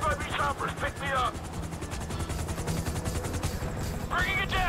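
FIB helicopters in GTA 5 during a bureau raid: a throbbing rotor chop under bursts of gunfire, with a voice shouting in short bursts near the start and end.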